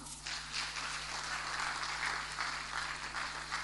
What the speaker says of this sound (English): Are you guys going to clap for her?